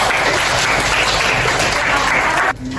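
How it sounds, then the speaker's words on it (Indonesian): A classroom audience claps together in dense, sustained applause for a few seconds, then it stops abruptly. "Beri tepuk tangan untuk ini."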